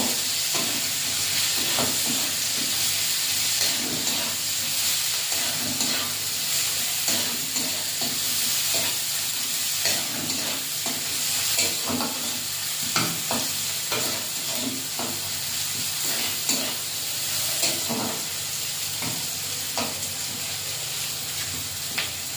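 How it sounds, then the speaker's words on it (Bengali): Chopped onion fries in hot oil for a village-style shol fish kalia, giving a continuous hissing sizzle broken by regular scraping strokes of stirring throughout. "পেঁয়াজটা ভাজা ভাজা করে নেব।"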